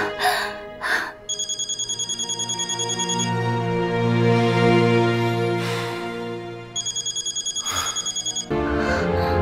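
A telephone rings in two long bursts of rapid electronic trilling, loud and close, separated by a stretch of low tonal music with no speech.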